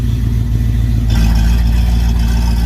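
A 1932 Graham Blue Streak engine runs loud and close with its exhaust cutout open, a steady deep drone that grows harsher and rougher partway through, with no talking.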